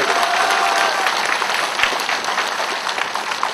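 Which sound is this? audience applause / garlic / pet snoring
audience applause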